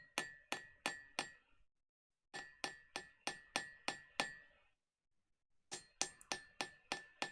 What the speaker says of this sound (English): a light hammering sound on metal